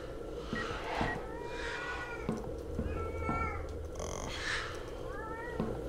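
Cats meow repeatedly inside the horror video game Erie, several drawn-out rising and falling cries spaced a second or so apart over a low, steady ambient hum, fairly faint and with no talking.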